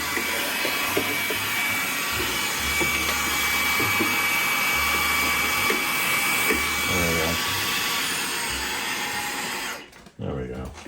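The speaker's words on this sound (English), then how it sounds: "everyone should have a shop vac of any sort, of any form" A shop vac runs steadily and loud at close range for about ten seconds, a continuous motor whine and rushing airflow, then cuts off near the end, with speech faintly mixed under it.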